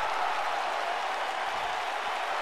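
A wrestling crowd in Topeka, Kansas cheers and applauds, a dense, steady wash of clapping and crowd noise throughout.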